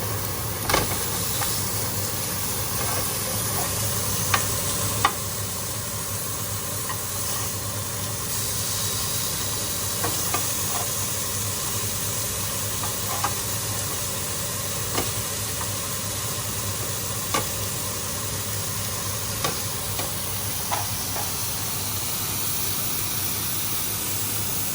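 Food cooks on a grill while pieces are turned over, producing a continuous broad hiss with scattered faint clicks and taps throughout.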